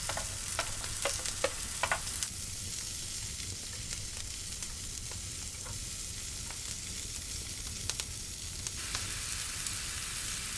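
Onion, leek and diced garlic sear in a hot pan while cooking outdoors, giving a steady, close sizzle and crackle with occasional sharper pops and stirring scrapes throughout.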